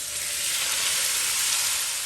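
Onion and whole cloves sizzle steadily in hot oil while being stirred for a Guyanese geera pork dish, a dense, close, continuous hiss with no voices.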